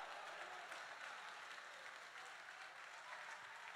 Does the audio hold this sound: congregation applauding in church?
yes